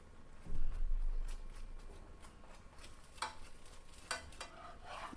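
A ghee-brushed roti sizzles on a hot tawa with a soft, steady frying hiss, broken by a few light taps and scrapes of a utensil against the pan.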